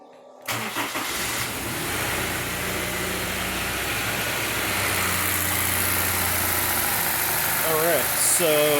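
A Honda S2000 engine cranks and catches, then settles into a steady, close idle with a low continuous rumble.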